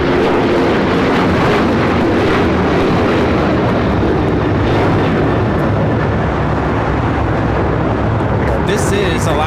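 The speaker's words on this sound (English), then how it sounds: "This is Alaska Airlines 1412 taking off to Liberia on the 737-900ER." An Alaska Airlines Boeing 737-900ER departs LAX for Liberia, its jet engines giving a loud, steady broadband roar that fills the scene with wind buffeting the microphone and a voice speaking over it.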